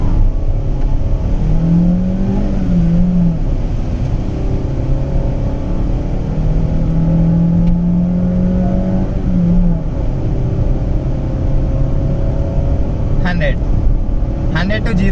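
A fifth-generation Honda City accelerates from 0 to 100 during a test drive, its engine note rising as it builds speed, heard loud from inside the cabin with brief talk toward the end.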